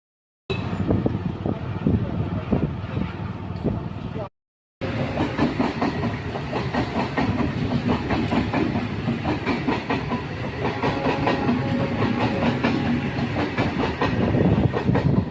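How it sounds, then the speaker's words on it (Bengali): A train rolls past close by with a continuous loud rumble and rhythmic clickety-clack of wheels over rail joints, briefly cut by a short gap, then sustaining at full strength to the end. "ট্রেনটা চলে গেছে, আবার একটা দাঁড়িয়ে আছে এখানে।"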